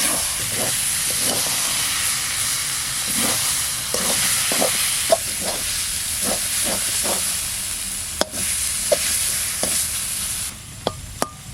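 Wild mushrooms cook down in a pan as the last water dries off, with a steady hiss of steam and repeated scraping stirs, plus a few sharp knocks near the end.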